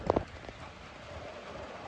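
Steady rain falls around a Ford Focus ST225 outdoors as a continuous broadband hiss, with a couple of sharp knocks near the start and no voices.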